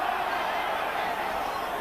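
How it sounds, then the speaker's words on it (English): A rugby league crowd at a Bradford versus Castleford semi-final gives a steady, dense roar with scattered shouts, distant and continuous, under a commentator's voice. "One or two of the crowd shouting for forward pass"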